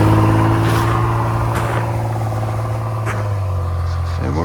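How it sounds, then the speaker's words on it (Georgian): A car engine revs and drones steadily up close on a muddy, snowy rural road in Dusheti, the pitch shifting slightly as it strains, with faint voices now and then. "არა და მოძრაობს მანქანა რა."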